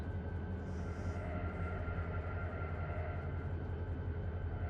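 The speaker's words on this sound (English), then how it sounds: "That's locomotive brakes you hear there." Locomotive brakes in the Run 8 train simulator game on an ATSF local freight hiss and rumble as a steady low drone with a faint high hiss near the start, quiet and continuous throughout.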